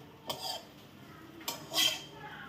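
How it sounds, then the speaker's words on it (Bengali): Ripe jackfruit seed bharta being scooped out of a wok, a few close scraping clinks of a spoon against metal spaced apart in a quiet kitchen. "আমি এখন এটাকে কড়াই থেকে তুলে নেব।"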